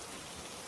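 Steady rain falling, a dense even hiss of drops with no breaks or voices.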